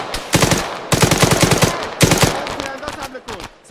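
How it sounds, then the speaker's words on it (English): Light machine gun fire in ARMA 3 rattles out in three sustained automatic bursts, loud and close, with short gaps between them and a fainter tail of distant shots at the end. "LMG are trying to draw fire as best as possible"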